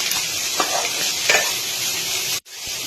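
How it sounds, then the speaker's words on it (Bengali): Katla fish roe frying with onion in a pan, a dense continuous sizzle with spatula stirring scrapes close by, cut by a brief silent gap near the end before the frying resumes. "যতক্ষণ কাঁচা গন্ধ থাকবে ততক্ষণ ভেজে নিতে হবে"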